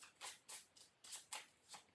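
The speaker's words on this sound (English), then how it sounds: "One more shuffle." Quiet, rapid riffling of a deck of tarot cards being shuffled, several short papery bursts in quick rhythm, close and soft.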